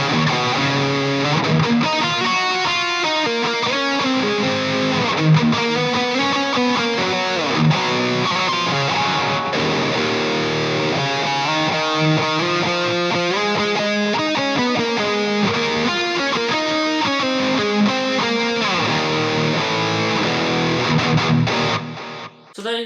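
An electric guitar with delay and reverb runs through a Fryette Power Station 2, playing a loud, distorted, continuous passage of layered notes with echoing tails for about twenty-three seconds. No one talks over it.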